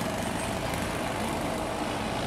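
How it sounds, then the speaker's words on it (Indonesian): A UD Quester truck engine hums smoothly and steadily on the road, a continuous low drone with road noise and no voices. "Ini truk ini mesinnya sangat halus."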